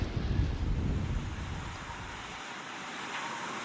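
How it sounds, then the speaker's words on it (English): Blustery wind roars against the microphone on a snowy mountain, strongest at first and then easing into a softer, steady rush. "Probably can hear the wind coming"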